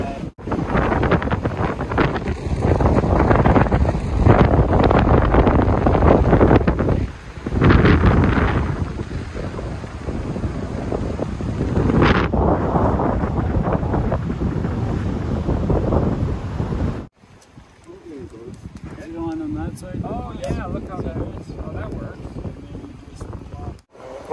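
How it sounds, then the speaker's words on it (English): Strong wind buffets the microphone at a lakeside campsite in Algonquin Park, loud gusty roaring that eases in the last stretch, where quieter lake and outdoor sounds take over, with voices mixed in at times. "we're just kind of lounging around and waiting for hopefully the wind to die down"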